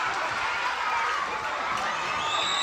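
Students and teachers at a school pageant cheer and shout together in a dense, steady crowd roar with high squeals of excitement running through all of it.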